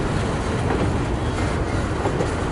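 A freight train hauling loaded grain cars rolls past close by, giving a steady, loud rumble and clatter of wheels on the rails with no talk.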